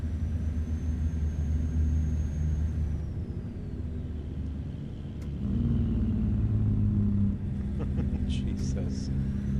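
A custom Peterbilt 379 truck in American Truck Simulator rumbles with a deep, steady low engine drone that swells and shifts pitch midway, while a person talks over it and brief clicks sound near the end.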